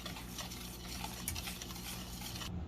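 A spoon or whisk stirs thick gram flour dhokla batter in a bowl, a quiet, continuous wet swishing with no voices.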